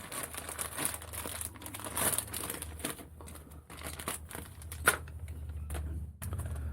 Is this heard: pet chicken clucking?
no